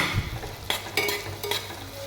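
Chopped onions are stirred in hot oil in a wok for biryani, a close sizzling bed punctuated by three sharp scraping strokes of a spatula against the metal.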